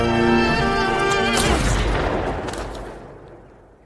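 A loud, sharp pistol gunshot that rings out and decays slowly into a fading echo, with no speech.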